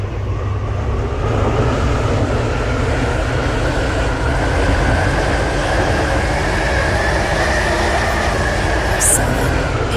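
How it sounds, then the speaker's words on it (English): A train in the Roblox game SCR rolls steadily into a station with a loud, continuous rumble and rail noise, a faint tonal whine running through it, brief squeaks near the end. "We will shortly be arriving at West Benton."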